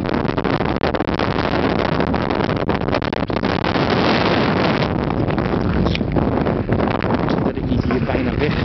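Strong wind buffeting a microphone outdoors near a weather station in Ankeveen, a loud continuous roaring rumble with gusty fluctuations and no speech.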